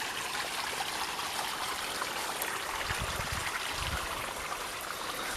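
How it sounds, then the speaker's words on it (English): Water trickles and babbles continuously in a small garden stream in a permaculture water garden, a soft close-up flow with a couple of brief louder gurgles, no voices. "I love the sound of water."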